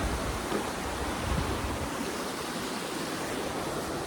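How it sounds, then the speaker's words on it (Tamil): Continuous broad rushing of flowing river water, steady and fairly loud, with no voices or other sounds. "தண்ணிட்டு சத்தத்தை கேட்டிங்களா எப்படி இருக்குன்ட்டு?"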